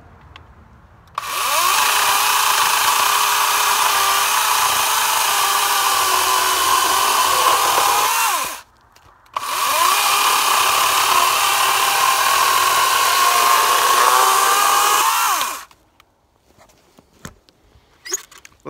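A Sun Joe 40-volt battery chainsaw cuts through a roughly seven-inch poplar log in two loud, steady passes of high-pitched motor whine, a short pause between them, then quiet with small knocks at the end.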